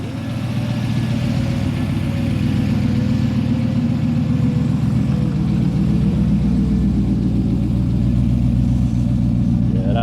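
A Cobra kit car engine idles steadily through a custom Gardner Douglas exhaust, a deep, even, moderately loud burble close by with a faint rise in revs and no voices.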